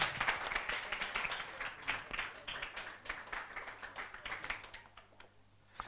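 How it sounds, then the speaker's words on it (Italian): Church congregation giving a strong round of applause to Jesus during a worship service, quiet but lively clapping with distinct individual claps that gradually thins out. "Quindi vogliamo fare un applauso ancora a Gesù."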